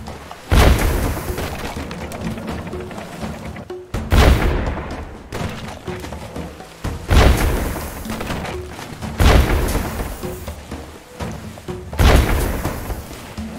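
Gunfire in the game Captain Sabertooth and the Magic Diamond comes as five heavy booming shots spaced a few seconds apart, each a loud close blast with a short rumbling tail.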